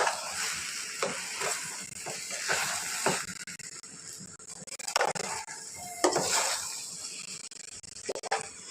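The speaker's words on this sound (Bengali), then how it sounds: "এখন আমরা মশলাটার সাথে পোলাওয়ের চালটাকে ভালো করে মিশিয়ে নিব।" Polao rice is mixed into spiced masala in a cooking pot, with a spoon scraping and clacking against the sides in irregular strokes over a soft background sizzle.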